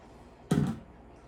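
Hot water poured into cake batter in a home kitchen, a single short splashing pour lasting about a quarter second, fairly close and clear, with no voices.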